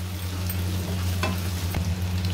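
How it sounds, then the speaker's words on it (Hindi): Garlic ginger paste fries with onions in a pan, a continuous close sizzle under a low steady hum, with a couple of brief stirring scrapes. "अब लहसुन अदरक के पेस्ट को भी प्याज के साथ थोड़ा सा भून लेते हैं"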